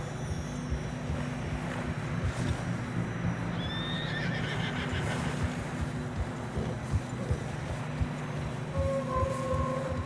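Horses in the Red Dead Redemption 2 video game trudge through deep fresh snow on a narrow trail, hooves thudding steadily under a low rumble, with a couple of sharp whinnies breaking through close by.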